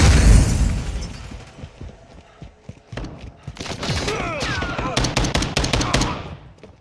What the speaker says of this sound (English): Rolling flash grenade!